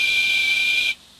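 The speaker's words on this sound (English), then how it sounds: "That sounds like a guard's whistle" A single steady, shrill whistle blast like a railway guard's whistle sounds for about a second, clear and fairly loud, then cuts off abruptly.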